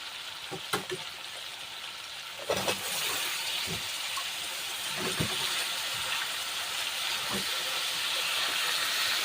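Chopped tinda (dhemse) hitting hot oil with garlic, cumin and chilli gives a loud, steady sizzle and hiss, with a few soft clicks and knocks as pieces land and settle.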